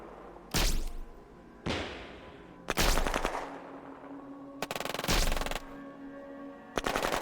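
Bursts of automatic gunfire from a strategy wargame, Shadow Empire, in loud separate volleys of rapid shots, each ending in a short echoing tail, with pauses between them.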